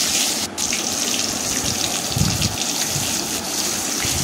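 Chopped tomatoes go into hot oil tempered with bay leaf, dried red chilli and cumin for a gravy for vegetarian stuffed pointed gourd, giving a steady, loud, close sizzling hiss that runs throughout with no voices.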